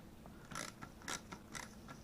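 Lock screws on a Spanish FR-8 rifle being loosened, giving faint rhythmic creaking, ratchet-like clicks about three times in two seconds, quiet and close.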